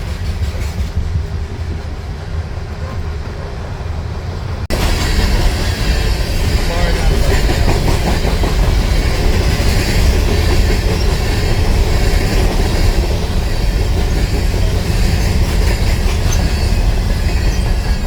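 A Kentucky freight train passes close by, a loud continuous rumble and rattle of rail cars with some wheel squeal, swelling sharply after a quiet opening few seconds.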